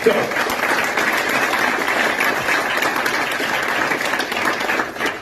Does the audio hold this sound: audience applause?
yes